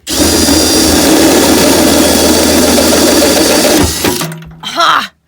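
A loud power drill with a hole saw cutter runs steadily for about four seconds as it cuts through a van's sliding door, then winds down and stops, followed by a short clunk.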